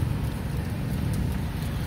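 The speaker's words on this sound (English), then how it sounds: "It's raining." Rain falling outdoors on a street in San Fernando City, a loud, constant broadband hiss of heavy rainfall close by, with no voices or pauses.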